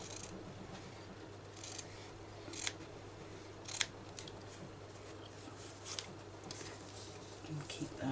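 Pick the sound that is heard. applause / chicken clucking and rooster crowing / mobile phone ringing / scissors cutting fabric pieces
scissors cutting fabric pieces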